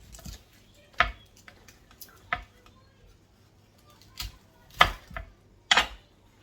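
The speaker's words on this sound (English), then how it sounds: "I'm going to chop up some onion now." An onion is chopped on a cutting board while cooking a Bolognese, giving sparse, irregular sharp knife knocks with quiet gaps between them.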